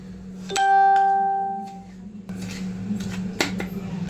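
Semolina, sugar and cashews for rava laddu go into a bowl, a ringing metallic clang followed by scraping and clinking of a spoon against the vessel, close and moderately loud.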